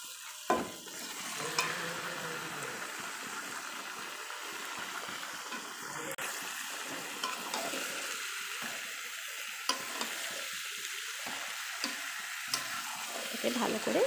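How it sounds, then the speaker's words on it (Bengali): Chicken pieces stir-fried in a spiced masala for chicken kosha, with a steady close sizzle and repeated scraping stirs running the whole time and no voices. "এবার এর ভেতরে দিয়ে দেবো মাংস।"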